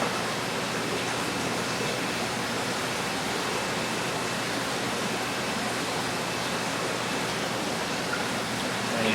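Running tap water pours into an aquarium as it fills, a steady, close, full rushing splash that continues unbroken throughout.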